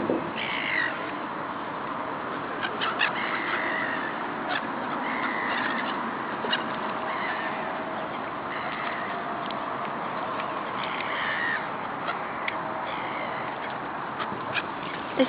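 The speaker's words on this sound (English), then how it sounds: "Look at all those birds, Asher." A flock of crows or similar birds caws and squawks continuously outdoors while being fed, many overlapping harsh calls at moderate distance over a steady background hum.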